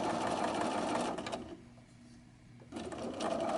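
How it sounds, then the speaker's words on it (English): A sewing machine runs steadily, stitching a quarter-inch quilt seam with fabric guided along tape, its motor slowing briefly midway before resuming at full speed; close and alone with no talk. "And I'm going to stitch all the way down."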